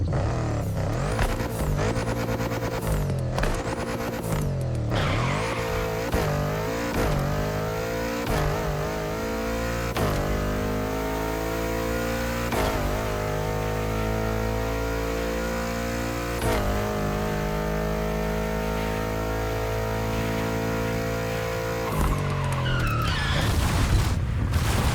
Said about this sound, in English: This is the high time exhaust tone.